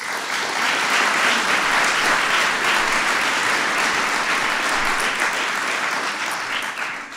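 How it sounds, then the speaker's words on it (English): A large crowd at a White House event honoring the 2015 WNBA champion Minnesota Lynx applauds loudly and continuously, with dense clapping that fades slightly toward the end. "we want to give him a big round of applause"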